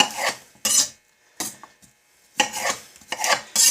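A knife strips bell pepper on a cutting board for chicken cacciatore, several separate scraping, rasping strokes close up with quiet pauses between them.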